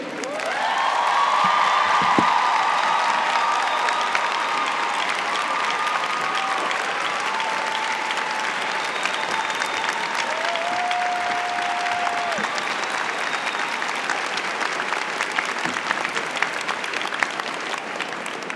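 Sustained applause from a large crowd at the Spelman College commencement ceremony, loud at first and gradually thinning, with a few whoops and cheers scattered throughout.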